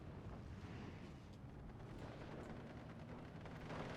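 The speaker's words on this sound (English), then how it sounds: "All right, now 60 mil mortar is going to town again." Mortar fire in Steel Division 2, 60 mm mortars firing: a continuous low rumbling of blasts and booms, dense and steady without distinct separate shots, fairly loud throughout with no talk.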